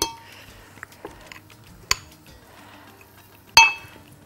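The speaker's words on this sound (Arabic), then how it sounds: "هحط بس كده ايه معلقتين من الآيس كريم الحلو ده" Spoonfuls of ice cream for a strawberry mango milkshake drop into a blender with a few sharp clinks, separated by quiet gaps, the loudest near the end.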